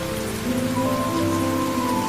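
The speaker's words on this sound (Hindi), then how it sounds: "अभी तो बारिश हो रही है" Steady rain falls on a terrace, a continuous dense patter of drops that stays even and fairly loud from start to finish, with no voices.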